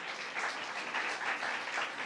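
Sustained applause fills a hall as an audience claps for an assemblymember at a New York governor's bill-signing event. The clapping is dense and even, with a crowd-wide rush that carries on without a break.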